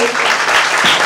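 A church congregation at a Good Friday service claps loudly and densely in a brief burst of applause, heard up close.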